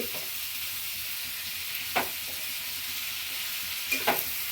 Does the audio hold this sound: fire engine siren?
no